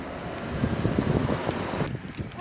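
Wind rushing past the microphone while riding a bicycle outdoors, a steady broadband roar with gusty swells, loudest in the first half, then easing slightly near the end.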